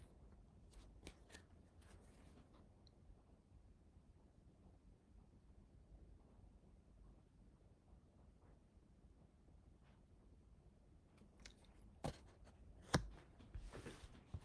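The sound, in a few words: shuffling cards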